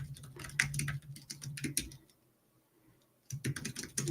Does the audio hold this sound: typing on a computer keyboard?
yes